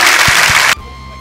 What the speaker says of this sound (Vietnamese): hãy cho một tràng pháo tay để cổ vũ cho tiết mục